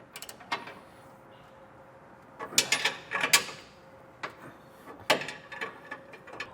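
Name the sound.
socket and ratchet tightening gooseneck trailer hitch hardware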